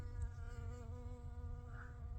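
Bees buzz around blossoming purple tansy in a spring garden, a steady, close drone of several insects humming continuously for a couple of seconds.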